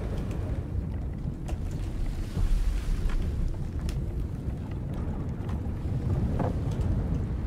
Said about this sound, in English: Nothing used to lull me into a slumber like the dull roar of an engine chugging away.